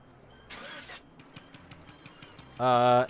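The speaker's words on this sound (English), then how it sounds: "It just sounded like a puny little car choking to life." A boat engine in the video game Tales of Legendia sputters to life: a short rough burst, a few faint ticks, then a loud, strained buzzing drone that cuts in at the end.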